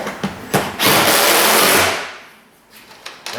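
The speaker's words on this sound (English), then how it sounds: "The screws are going to go in with a little bit of resistance at first" Screws being driven with a power driver into a new plastic blend door box on a Dodge Ram heater assembly, heard as a sustained whirring burst of about a second with short clicks before and after.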